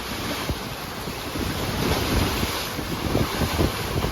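Strong wind blowing over open water with waves and whitecaps while a sailboat crosses the Sea of Cortez, a loud continuous roar of gusts and surf splashing around the hull, no voices.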